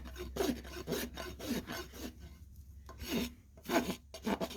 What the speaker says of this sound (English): now she's coming in with the rasp